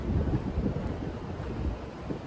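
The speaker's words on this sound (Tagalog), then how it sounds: "malakas ang hangin" Strong wind blows steadily across the microphone outdoors in Hong Kong, a loud, continuous low rumble and buffeting gusts with no voices.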